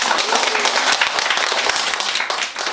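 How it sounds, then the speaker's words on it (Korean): Audience clapping for a couple during a talk on nonviolent communication, steady and fairly loud with closely packed individual claps throughout, easing off slightly at the end. "이 부부에게 박수 좀 보내주세요."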